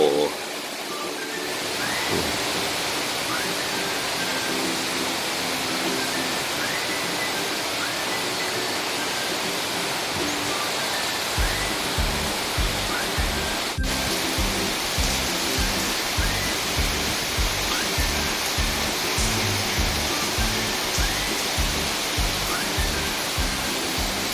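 Steady rain falls in Sattahip, Thailand, over a green vegetable garden and a bed of Siam tulips, a constant close hiss that goes on throughout, while a regular low pulsing runs beneath it in the second half.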